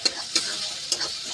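Masala paste sizzling in hot oil, a soft crackle broken by three sharp ticks or spatters spaced unevenly over a quiet background.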